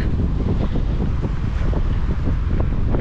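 Strong wind with light drizzle buffets the microphone in a loud, constant, low roar that does not let up, outdoors in New Zealand.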